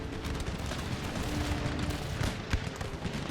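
Musket volleys and scattered gunfire rolling across a battlefield in Empire: Total War, a continuous dense crackle of shots with occasional heavier thumps, moderately loud and without talk.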